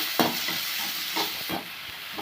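Steady hiss of chopped onions frying in oil in a hot pan, with a few soft clinks and scrapes of stirring over the continuous sizzle.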